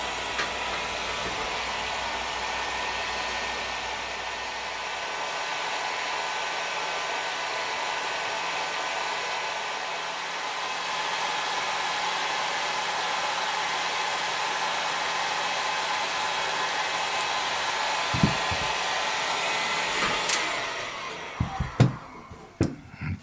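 Heat gun blowing hot air at about 300 degrees while working on a model ship: a steady, close, broadband whooshing drone that holds for around twenty seconds, then ends with a few clunks and handling knocks.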